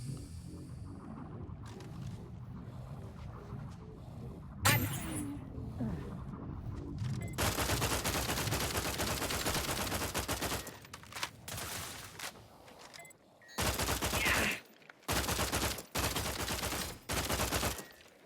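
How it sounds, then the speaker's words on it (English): Video game gunfire in The Outer Worlds 2 comes as rapid, loud automatic bursts that stop and restart in several sharp blocks near the end, with game ambience between them. "I felt like my bullets were just smacking into the wall because that's where the target was."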